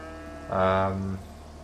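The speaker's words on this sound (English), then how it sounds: "how are the cows doing?" Cattle lowing in the Farming Simulator 25 game, a single long harmonic moo that swells and fades at moderate loudness against a steady low background hum.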